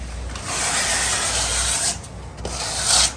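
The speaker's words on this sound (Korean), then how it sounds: "사포로 살짝 이렇게 한 번씩 다듬어주고" Sandpaper rubbing over a painted interior wall to smooth rough spots, a steady close scratchy rasp that holds for a few seconds, dips briefly, then picks up again, with no voices.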